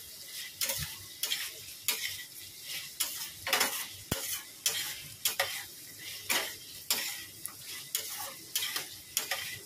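Egg curry cooks in a pan while a spoon stirs it in a regular rhythm of about one scraping stroke per second over a soft, low sizzle, with no speech.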